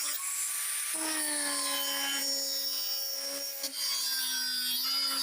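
A power tool cuts steadily through a plastic barrel lid along a marked line for a home biogas plant, a loud continuous whine with a brief dip near the end.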